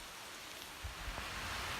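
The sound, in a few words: rain falling on forest canopy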